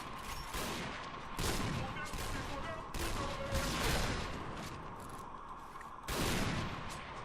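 Repeated bursts of gunfire from a sniper-mode video game, a few loud volleys separated by quieter stretches with mechanical clatter, faint and under distant game noise.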